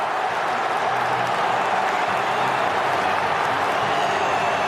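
A sellout football crowd at the Swansea.com Stadium roars after a Swansea goal in an EFL Cup match against Manchester City, a dense, sustained wall of cheering and clapping that stays loud and even throughout.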